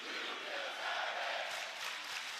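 A wrestling arena crowd at an AEW event chants in unison, a broad sustained roar of many voices heard from a distance, swelling slightly toward the end.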